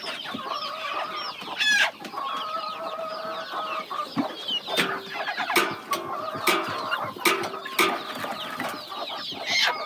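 Free-range country chickens cluck and squawk close by while held for beak trimming, irregular agitated calls with sharp cries and clatter, no talk.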